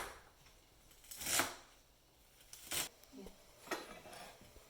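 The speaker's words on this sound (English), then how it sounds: "So you can start to put the stem together and cut them about an inch or less." A knife cuts through bundled kale stems on a board in a home kitchen, giving three distinct crisp chops spaced a second or so apart, fairly quiet, with soft handling noise between.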